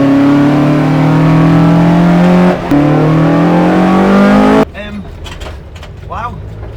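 A Toyota AE86 with a 4A-GE engine revs hard and loud up close, its pitch climbing steadily, dipping for a moment at a shift, then climbing again before cutting off abruptly. Afterward, faint voices and mechanical noise remain.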